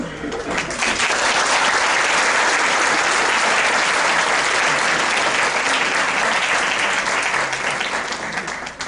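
A formal legal event audience in Yucatán gives loud, sustained applause to welcome the president of the state's superior court, a dense wash of clapping from many hands for nearly nine seconds, with voices faintly underneath.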